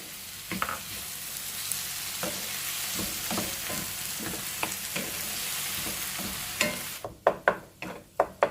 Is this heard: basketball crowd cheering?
no